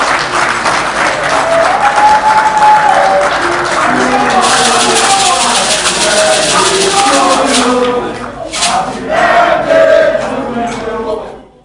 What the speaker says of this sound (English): A round of applause to Mr. President.